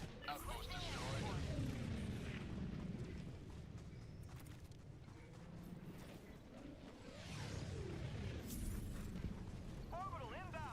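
Explosions and whooshing game-combat noise from an outpost being destroyed in Helldivers 2, a loud, dense rumble that swells twice across the stretch, with warbling tonal effects layered on top and a voice talking through it.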